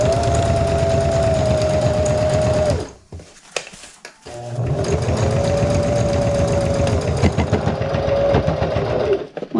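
A sewing machine runs steadily along a quarter-inch seam on a batik quilt, loud and close, with a brief stop partway through before stitching resumes.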